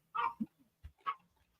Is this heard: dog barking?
yes